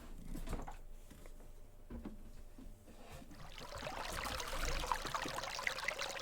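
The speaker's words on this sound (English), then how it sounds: "As I fill a pail with hot water" Hot water pours into a pail. The rushing, splashing flow starts quieter and swells to a loud, steady stream over the last few seconds.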